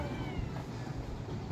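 A domestic cat meows a few times on a house roof, moderately close and fairly quiet, with steady outdoor background noise and no talking.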